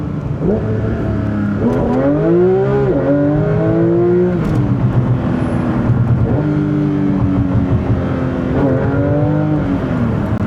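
A Porsche GT3 RS accelerates hard. Its engine rises in pitch through several loud, close gear pulls, with brief dips between shifts, and the roar stays strong and steady throughout.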